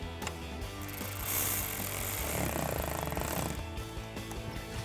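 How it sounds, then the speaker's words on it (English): Ratchet with an 8mm socket tightening three hose clamps on a cold air intake for a 2019-2025 Silverado 1500, a close, steady mechanical clicking and whirring of several seconds with no talk. "Now we can take an 8mm socket and tighten down our 3 clamps."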